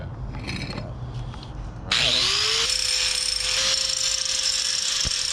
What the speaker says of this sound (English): We are grinding brackets to make this work.